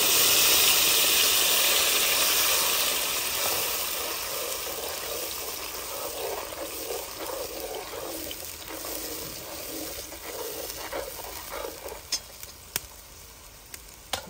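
A loud, bright sizzle of tomato paste frying in hot oil for a red paneer curry that gradually settles into a softer, steady crackle with occasional pops.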